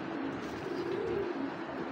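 Tota breed pigeons coo softly in a low, steady murmur, faint and somewhat distant, with no voices over them.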